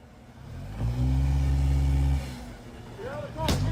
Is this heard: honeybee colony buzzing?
no